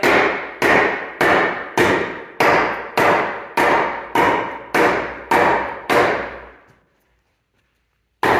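Eleven evenly spaced hammer blows tack a shelf board to a garage wall, loud sharp cracks roughly every 0.6 seconds with short ringing decays, then a pause and one more strike at the end.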